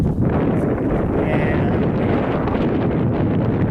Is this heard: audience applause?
no